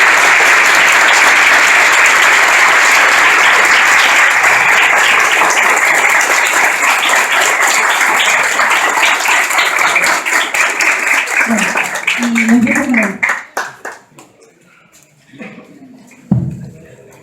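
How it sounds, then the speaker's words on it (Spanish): A conference audience in an Argentine teacher-training institute claps in a long, loud wave of applause to welcome a professor. It thins into scattered claps and dies away, and brief speech follows near the end. "Voy a pedir un fuerte aplauso"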